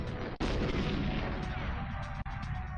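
Grenade explosion in the N64 shooter GoldenEye: a loud, dense, sustained blast roar filling the whole moment, broken by a couple of brief sharp cuts, with talk faintly mixed in.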